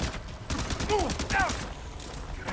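A rapid burst of gunfire in Death Stranding 2, a short run of cracking shots mixed with game sound effects and brief tonal chirps, loud and close.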